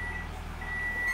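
A reversing truck's warning beeper sounds in a steady high tone over a low engine rumble, heard at a distance and fairly faint, with no talking.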